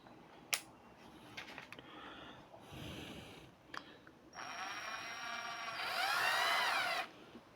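Power drill tightening a part during a paint-removal restoration project, starting after a few handling knocks and running as a steady whine that climbs to a louder, strained pitch for about three seconds, close and without speech.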